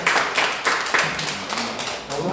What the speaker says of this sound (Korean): 우리 함께 감사 박수하겠습니다